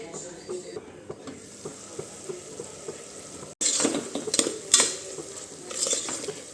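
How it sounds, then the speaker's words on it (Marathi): Onion and garlic with salt cooking in a pan, quiet low sizzling at first, then louder scraping and clinking stirs with a utensil after a brief break, close up. "मीठ टाकून पुन्हा एकदा मिक्स करून घेत आहे"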